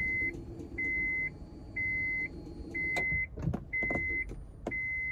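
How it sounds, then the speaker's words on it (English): A fuel pump primes in a boosted Honda S2000 making 490 whp, its steady electric whine running in several evenly spaced bursts with brief gaps, close and clear, with faint clicks near the end and no talking. "The fuel pump's prime."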